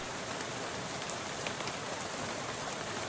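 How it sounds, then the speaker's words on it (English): Steady rain patters across a surface in the game Shadows over Loathing, a dense, even hiss of drops with a few brighter taps, constant and close with no voices. "How about this rain, huh?"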